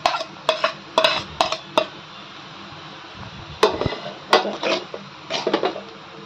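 Spring onion stirred into egg noodles in a pan, heard as brisk metallic scrapes and clanks of a utensil against the pan in quick irregular bursts, with a brief pause midway before the stirring picks up again.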